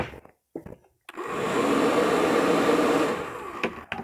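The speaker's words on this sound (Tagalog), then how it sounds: "You can also use the hair blower to help you clean the old factory glue." A hair dryer switches on after a few clicks and handling knocks, then blows with a steady, loud whir while heating old factory glue on a shoe sole, before cutting off with more clicks.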